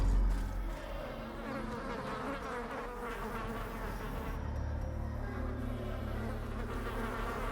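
Mosquito enemies in Darkest Dungeon drone with a dense, continuous insect buzz, loud at first and then holding steady throughout.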